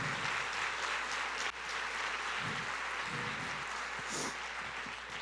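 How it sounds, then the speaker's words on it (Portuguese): A church congregation applauds during a service, a continuous wash of many hands clapping at moderate level throughout, with a few louder claps and cheers rising briefly partway through. "aplauda o Senhor"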